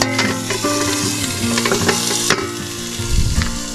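Steaks frying outdoors at a campervan stop in Norway give a loud, continuous sizzle with crackles and pops, and occasional clinks from a utensil near the end.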